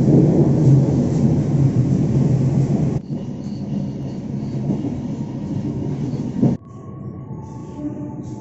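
Local train near Cimahi station, Bandung, heard from on board: a steady rumbling roar of wheels and motion, dropping in level as the train slows, with a brief clank near the end.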